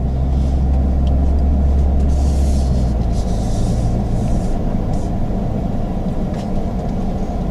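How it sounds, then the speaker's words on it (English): Semi trucks and other big trucks roll past on a road in Salem, Indiana, a loud, continuous low engine rumble and tire roar close by, swelling slightly as vehicles pass, with no voices. "what's in front of you? Semis and big trucks"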